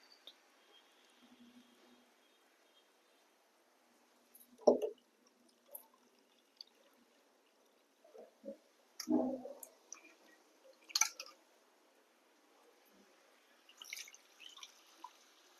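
Water is added to thick tamarind pulp for a fish curry, giving faint, sparse drips, splashes and soft wet squishes in an otherwise quiet kitchen.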